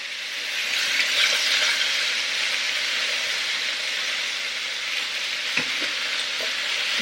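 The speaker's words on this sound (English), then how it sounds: "While that's sizzling away" Meat sizzles and fries in a pan with a steady, close hiss and a few faint clinks, and no talking.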